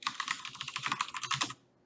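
Quick burst of computer keyboard typing as a project name is entered for a C++ game setup, a close, rapid run of clicky keystrokes lasting about a second and a half, then stopping.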